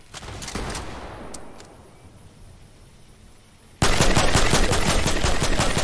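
Fortnite video game gunfire: a few sharp shots and scattered cracks at first, a quieter lull, then a sudden loud, continuous burst of rapid automatic fire that carries on to the end, with no talking.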